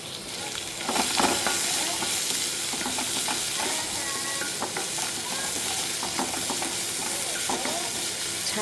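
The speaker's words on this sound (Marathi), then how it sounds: "असं तपकिरी रंग येईपर्यंत त्याला तर तळून घेते" Chopped onion frying in a hot kadhai until browned: a steady, close sizzle with crackles and occasional stirring scrapes throughout.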